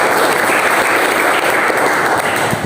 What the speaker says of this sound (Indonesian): Mari kita beri tepuk tangan kembali.